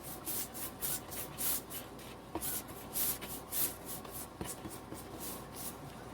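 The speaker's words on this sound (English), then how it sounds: "Putting Mod Podge on top of plastic will make it adhere better." Brush strokes spreading Mod Podge across a plastic Dollar Tree pumpkin, a soft rhythmic swishing and rubbing repeated roughly twice per second, close and fairly quiet with no voices.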